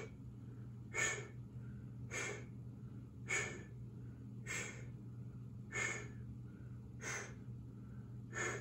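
Deep rhythmic breathing during a seated chair workout, with about seven evenly spaced breaths roughly every 1.2 seconds over a constant low hum.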